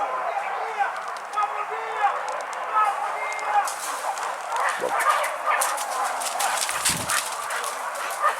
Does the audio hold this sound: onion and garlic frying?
no